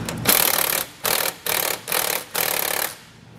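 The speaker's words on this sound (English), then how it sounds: "we'll come back with a 13 millimeter socket and tighten up the two bolts holding the carbon canister to our brackets" A 13 mm socket tightens the bolts holding a carbon canister to hitch brackets on a 2021 Chrysler, heard as five close, loud bursts of ratcheting, each about half a second long with short pauses.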